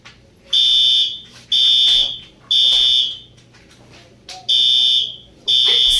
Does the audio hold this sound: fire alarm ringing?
yes